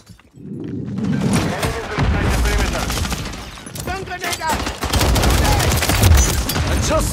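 Rapid gunfire in Call of Duty: Modern Warfare 3 multiplayer crackles in loud, dense bursts with heavy booms and thuds, nearly continuous after a brief quiet start, with a radio-style voice briefly audible.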